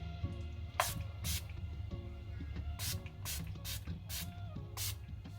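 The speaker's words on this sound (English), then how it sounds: "I'm just going to spray the face again with this Revolution Base Fix Spray" Several short, sharp hissing bursts of a Revolution Base Fix makeup setting spray onto a face, irregularly spaced over a quiet background with faint low hum.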